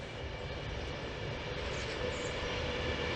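An Avanti West Coast Class 390 Pendolino electric train passes by, producing a steady, broad rumble and rushing roar that stays loud and close throughout.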